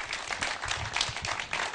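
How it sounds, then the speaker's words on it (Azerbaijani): An audience applauds guests at an event, a steady wash of dense clapping held at an even level throughout with no voices on top. "Onları alqışlayaq əvvəlcədən."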